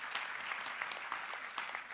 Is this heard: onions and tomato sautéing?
no